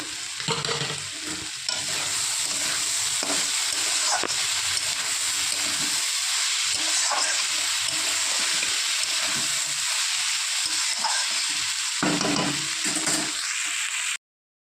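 Bitter vegetables such as bitter gourd and neem leaves fry in a pan, producing a continuous loud sizzle and hiss with scraping stirs for over ten seconds before stopping abruptly.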